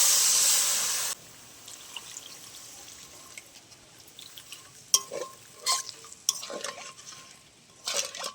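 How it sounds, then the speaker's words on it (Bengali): Water from a spice-rinsing bowl hits sizzling fried spice paste in a wok for a Kalbasu fish gravy, giving a loud hissing burst for about a second, then quieter bubbling with scattered clinks and scrapes. "এবার আমি জল দিয়ে দেবো মশলা ধোয়া বাটির জল দিয়ে দেবো"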